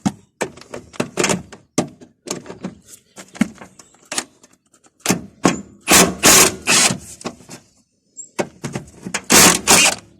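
An impact gun zips and hammers at bolts on the upper ball joint of a Mitsubishi Delica, in loud bursts mixed with metallic clunks and ratcheting close by.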